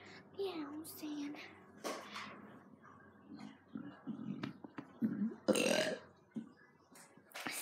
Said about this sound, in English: Excuse me, I burped.